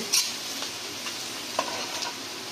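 Onion with rock salt sautéing in a pan for rava kichadi, a quiet steady sizzle with a couple of brief stirring scrapes.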